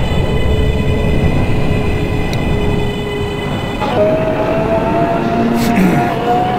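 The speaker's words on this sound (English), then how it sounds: "I love the sound on this train." A New York City subway train on the BMT L line, 14th Street route, simulated in OpenBVE, rolls with a steady rumble and tonal motor whine, then a shift in pitch and a brief squeal near the end.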